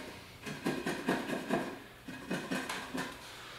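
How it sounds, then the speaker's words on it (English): Chisel blows cleaning out wood on a DIY potato growing box: a quick run of close, sharp knocks and scrapes in two bursts separated by a short pause, fairly quiet. "Now you may end up having to go in there and just clean it up a little bit with your chisel."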